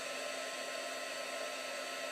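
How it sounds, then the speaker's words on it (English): A hot heat gun blows steadily while heat-setting embossing powder on a stamped background, a constant close whooshing fan and motor whine with no break or voices. "Then you heat set it with a hot heat gun."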